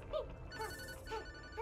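A quiet telephone ringing in the video game Yooka-Laylee, short repeated electronic chirps over a low background bed, heard alone without talk.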